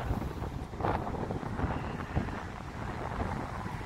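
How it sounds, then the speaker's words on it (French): Wind buffeting a microphone outdoors in the mountains near Mont-Dore and the Sancy peak, a loud continuous low rumble with gusty bursts and no speech. "Excusez-moi pour le vent, mais il y a pas mal de vent."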